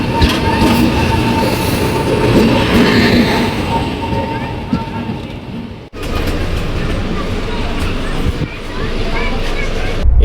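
Passenger train on the Hyderabad to Hospet route running steadily, a loud continuous rumble with wheel clatter and rattling throughout, heard from on board, with a brief break near the middle.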